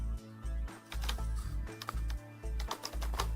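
Computer keyboard typing a command into AutoCAD, a quick run of close, crisp key clicks in an uneven rhythm over a steady low hum, no speech.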